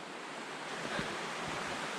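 A river flows beside a campsite on a backpacking trail, giving a steady, soft broadband rush of moving water with faint wind-like texture and no voices.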